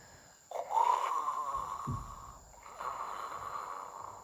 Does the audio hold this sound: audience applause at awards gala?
no